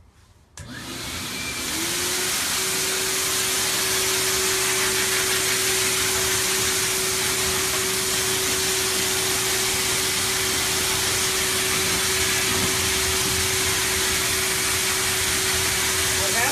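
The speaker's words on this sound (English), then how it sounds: "I'm going to fire up this blower real quick and just kind of show you exactly what I mean." An air blower starts up and roars steadily, driving product into an animal hide with its hair. The loud, close, unbroken whoosh has a constant whine and holds for over fifteen seconds.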